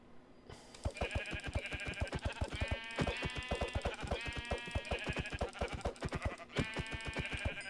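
A sheep in a video game bleats repeatedly, a quick series of nasal, wavering baas in bursts, fairly clear and steady over the background.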